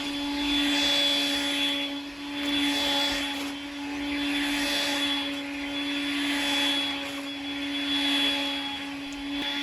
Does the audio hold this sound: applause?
no